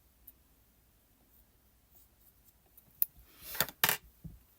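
Scissors snip off crochet yarn tails on a shell-stitch swatch: two close, crisp cuts in quick succession after a quiet stretch, with no talk.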